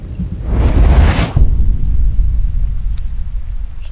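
Rain and thunder in the survival game H1Z1 Just Survive: a loud, broad rushing burst swells for about a second, then settles into a steady low rumble of falling rain that continues to the end.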